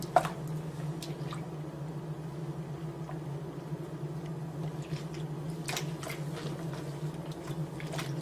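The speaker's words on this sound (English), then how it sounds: "Gently work it into the water." Soft squishing and dripping of wool being washed and worked in water, gentle and close, with a steady low hum underneath and no talking.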